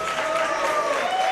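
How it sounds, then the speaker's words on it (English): A wrestling event crowd applauds in a brief, steady wash of clapping, with a voice carrying over it. "Deserved applause from the crowd for Michael Mory's showing here tonight."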